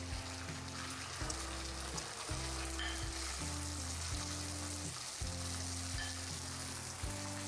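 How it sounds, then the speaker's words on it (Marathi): Cooked rice stirred into a sizzling cumin tadka in a hot kadai gives loud continuous frying hiss with rhythmic scraping strokes of the spoon roughly every second. "आणि ह्या भाताला आता मस्तपैकी असं स्टर करून घ्या."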